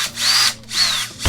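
A power drill drives screws while an IKEA LACK small floating shelf is mounted in a bedroom, giving two sustained whirring bursts separated by a short pause, close and loud, followed by a brief knock.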